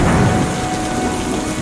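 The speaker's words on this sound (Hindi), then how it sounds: "ऐसी तेज बारिश मैंने तो कई सालों में नहीं देखी।" Torrential rain pours down in a dense, loud, unbroken roar, with a low rumble of thunder mixed in underneath.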